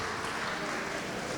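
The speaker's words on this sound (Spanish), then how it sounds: "un aplauso para la pastora" A brief burst of clapping from a church congregation applauding the pastor's wife. It is a short, dense wash of hands that fills the moment with no pause.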